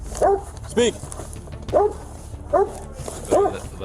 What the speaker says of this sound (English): Jason, the dog's right there. Speak.